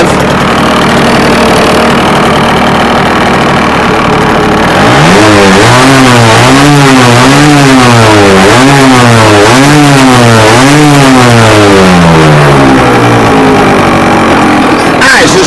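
An aging two-stroke engine is revved repeatedly, rising and falling in a steady series of loud, close revs after a quieter idle at the start.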